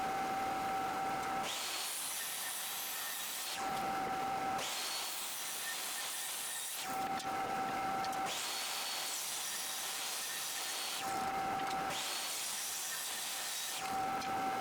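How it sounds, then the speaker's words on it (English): Table saw ripping wood scraps into 2-inch strips for a chess board, four loud sustained hissing cuts of about two seconds each separated by quieter gaps with a steady motor tone. "I rip everything in 2-inch slices."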